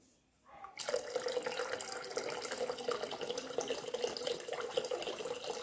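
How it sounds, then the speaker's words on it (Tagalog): Water runs steadily from a tap into an electric air pot, a continuous close splashing stream that begins abruptly after a brief quiet moment and keeps flowing evenly. "tapos, lagyan natin ng tubig."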